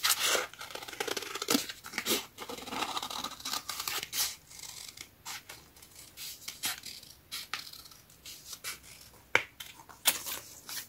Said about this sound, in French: Donc je vais couper le tour.